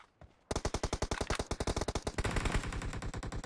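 Rapid machine gun fire in the mobile game PUBG Mobile, a loud close burst of evenly spaced shots after a brief quiet start, with the rhythm blurring toward the end.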